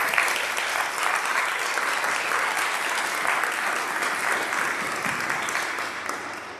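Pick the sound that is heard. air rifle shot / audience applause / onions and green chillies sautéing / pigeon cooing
audience applause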